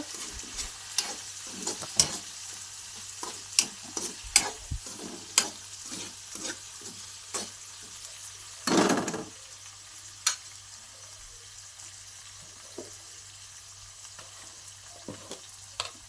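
Tomatoes and rice being stirred by hand in a pan for egg fried rice, with soft sizzling frying under repeated scraping and stirring taps, plus one louder burst of clatter midway.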